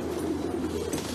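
Damascene pigeons cooing nearby, a soft low steady coo lasting the whole brief moment without speech.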